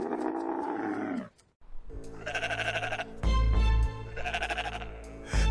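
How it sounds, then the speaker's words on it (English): Dying animals in ancient Egypt cry out, with loud, wavering bleats and low groaning calls that overlap in close succession under a deep rumbling bed. "only one sound echoed across the land of Egypt: the haunting cries of dying animals."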